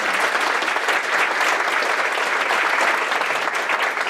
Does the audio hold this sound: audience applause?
yes